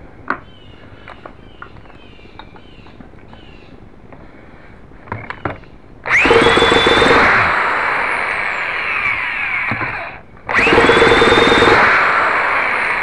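A Byrojet ducted fan unit starts after a few seconds of quiet, scattered clicks and becomes a loud, steady rushing whine. It dips briefly to near silence, then picks straight back up to the same close, powerful roar.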